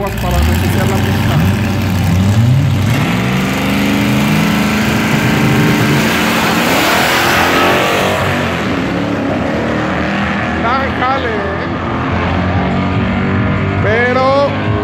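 A Golf VR6 Turbo Mk3 and a Ford Maverick drag racing side by side on a strip, engines revving and rising in pitch through gear changes, loud and close with crowd noise and talk underneath.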